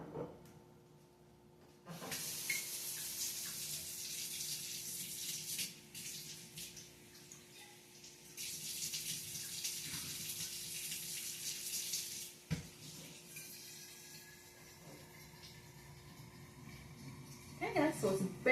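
Tap water hisses into wine bottles in a home kitchen, a steady close rush that stops and restarts in bursts between short pauses, with faint clinks.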